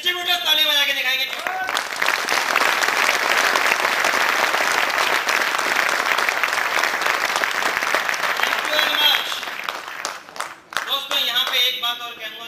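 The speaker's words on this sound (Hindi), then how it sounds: "एक बार हमारे खड़े डिस्ट्रीब्यूटर्स ताली बजा के दिखाएंगे।" Standing distributors at a KEVA business event clap loudly in welcome, a dense sustained round of applause lasting several seconds, with a speaker's voice briefly before and after.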